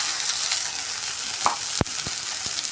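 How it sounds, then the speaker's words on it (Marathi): Tomato puree goes into a hot pan with spices for a dhaba-style veg Maratha kofta curry, sizzling in a steady, close hiss with a few sharp clinks of a spoon against the pan. "टोमॅटोची प्युरी घालून घेऊया आपण याच्यामध्ये"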